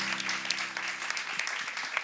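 An audience applauds for a musician, a dense, steady patter of many hands clapping at a moderate distance, continuous through the short stretch with a low hum underneath.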